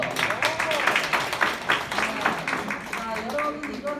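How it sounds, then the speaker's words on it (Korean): Scattered clapping from a small class audience at a Havruta coaching instructor course, fairly soft and close, mixed with people talking over it. "박수."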